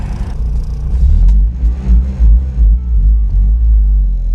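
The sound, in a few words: car engine revving in low gear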